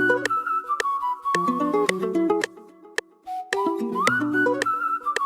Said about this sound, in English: So this whistle is just amazing.